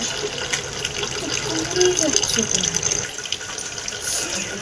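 Tap water runs steadily in a broad, continuous hiss at moderate level, with faint indistinct background sounds, outdoors on a cold morning at home.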